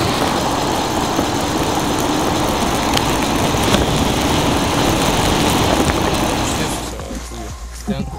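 A car prepared for drifting idles loudly and steadily close by in spring snow with a constant rough engine drone, then the sound drops and thins near the end as a voice comes in.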